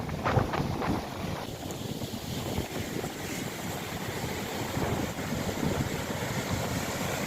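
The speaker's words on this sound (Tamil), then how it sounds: "கடல் அடிக்கிற அடிய பாருங்க" Rough sea surges against a coastal fishing area, heavy turbulent water rushing and churning continuously with strong wind buffeting the microphone, loud and unbroken with no voices.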